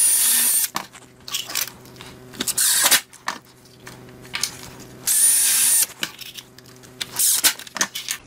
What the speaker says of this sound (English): take a block of wood and a little scrap of plywood and screw those together